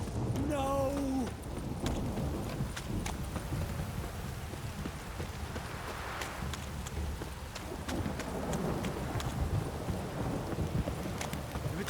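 Steady rain with low rumbles of thunder in The Witcher 3: Wild Hunt, a dense wash of downpour running through the whole stretch, with a voice speaking briefly near the start.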